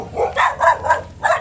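A dog gives four quick, loud barks in an uneven rhythm, close by and alone.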